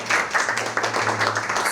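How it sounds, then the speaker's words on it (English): A live audience at a Talkaoke discussion event in Brussels claps together in a short, steady burst of applause, close and moderately loud. "Give yourselves a big round of applause."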